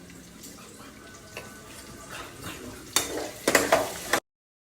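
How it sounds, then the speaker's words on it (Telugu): Ginger garlic frying with pink salt in a pan: a soft sizzle with light stirring, then loud scraping, clattering stirs near the end before the sound cuts off abruptly. "ఇప్పుడు జింజర్ గార్లిక్ వేస్తున్నాం"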